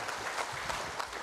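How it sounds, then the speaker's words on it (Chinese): Audience applause at a Buddhist dharma lecture gathering, a steady wash of many hands clapping for about a second with no voices over it. "我们热烈掌声啊"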